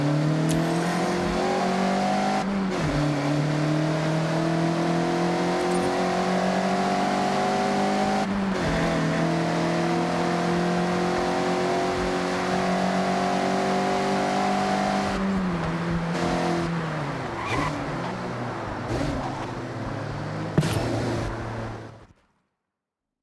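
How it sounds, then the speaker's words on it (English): A Mazda MX-5 races through corners in Forza Horizon, its engine droning steadily under load with pitch dips and rises as it shifts and slides, then cutting out abruptly at the end. "Attack these corners. Don't worry about traction. The MX-5 likes to be sideways."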